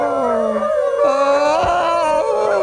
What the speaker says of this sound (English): Howling with wolves!